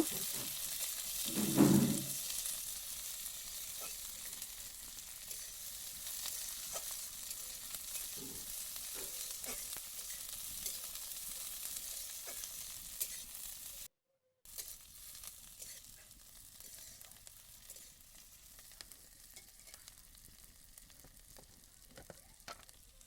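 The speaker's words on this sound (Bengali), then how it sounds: "তেলের ওপরে পেঁয়াজটা দিয়ে একটু ভাজা ভাজা করে নেব।" Chopped onion fries in hot oil with a dried red chilli while being stirred, a steady close sizzle running throughout, with a brief louder clatter near the start and a short gap in the middle.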